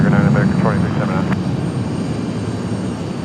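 An American airliner departing Raleigh Durham International Airport gives a steady, loud engine roar that fades slightly, with a voice speaking briefly over it at the start.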